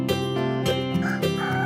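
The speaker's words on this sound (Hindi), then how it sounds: "हर रोज सवेरे मुर्गे के कुकड़कू बोलते समय ही जाग जाते थे।" A cartoon rooster calls out loudly and close by in short repeated bursts, with no other sounds around it.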